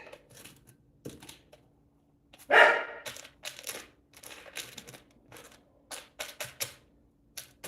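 Dogs bark in a home during a live cooking session: one loud, sharp bark stands out, followed by scattered quicker, lighter yips and clatters, with no talk.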